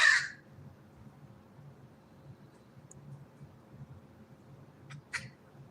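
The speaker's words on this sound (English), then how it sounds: "That crow was loud." A crow caws loudly, a sharp burst right at the start and a second, higher call near the end, with a quiet low rumble filling the stretch between.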